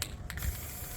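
A steady hiss of spray paint from an aerosol can onto a Honda Element front bumper, running continuously at close range with a faint mechanical rattle at the start.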